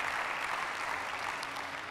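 Church conference congregation applauding, a continuous soft wash of many hands clapping at an even level, distant and reverberant, with no clear voices over it.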